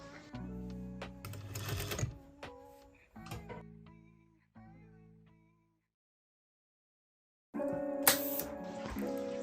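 A sewing machine runs along a dress seam in several separate bursts of whirring stitching with short pauses between, then a long silence before a louder final run.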